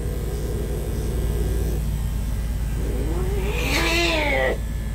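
An aggressive, angry cat lets out a single drawn-out yowl that rises and bends in pitch near the end, rising over a constant low rumbling background, with no talking.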